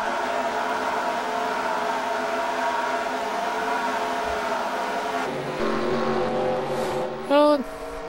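Race trucks from a racing video game speed around North Wilkesboro with a steady engine drone, a shift in tone midway and a brief rising whine near the end, under a commentator talking.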